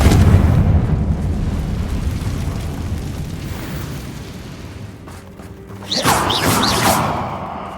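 A Confringo fire spell in the Hogwarts Legacy video game detonates with a loud, deep rumbling blast that slowly fades, followed near the end by a second sharp burst and crackle.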